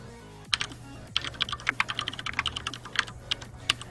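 Rapid clicking of keys on a computer keyboard while someone programs. The irregular bursts of sharp taps are close and steady over a faint background hum, with no talk.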